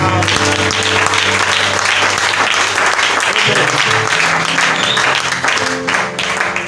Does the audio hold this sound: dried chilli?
no